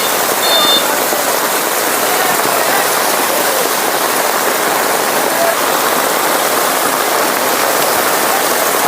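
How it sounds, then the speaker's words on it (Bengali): Heavy rain pouring down in a dense, unbroken roar, steady and loud throughout. "প্রচুর পরিমাণে বৃষ্টি শুরু হয়ে গেল"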